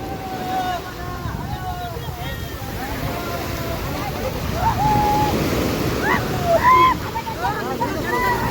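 Sea waves washing steadily at the shore while people bathe in the ocean, a constant rushing surf with wind buffeting, under several voices and shouts calling out nearby.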